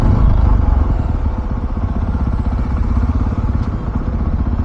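Jawa 42 Bobber BS6 2024 cruiser motorcycle riding along, a steady loud low engine drone with continuous road and wind noise throughout.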